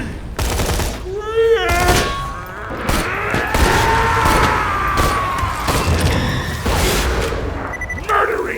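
Borderlands 2 gunfire in the Tundra Express, with rapid bursts of shots and booms scattered across the whole stretch, loud and close, mixed with character voices and a soft hum underneath.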